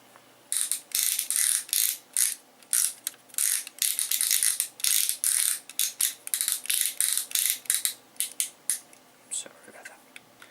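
Toy robot head on a ratcheting joint, the Universe Ultra Powerglide figure, turned in repeated bursts of sharp plastic clicks, close and crisp, with short pauses between turns and faint soft voice underneath.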